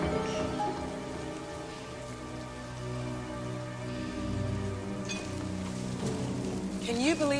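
Steady rain falling on surfaces in a drama scene, a continuous soft patter under a background music score, with a tonal swell near the end.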